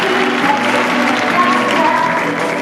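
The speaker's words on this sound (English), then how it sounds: "Give a round of applause" An audience at a cosplay contest claps loudly and steadily, with faint crowd murmur and a few whoops mixed into the applause.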